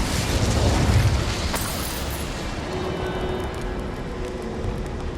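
An Incendio fire spell explodes in Hogwarts Legacy with a loud, rumbling boom at the start, then settles into a sustained roaring crackle that slowly fades.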